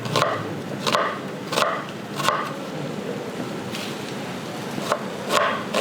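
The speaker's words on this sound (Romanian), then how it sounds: "Ceapa la fel, tot mărunțel." A knife chops onion finely on a board for a urban carp brine dish, a series of crisp, close knocks at an irregular steady pace.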